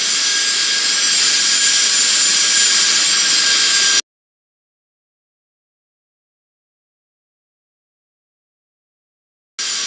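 A loud, steady airliner jet engine roar from a flight simulator game, a broad whining rush that holds for about four seconds, cuts to silence, then briefly returns at the very end.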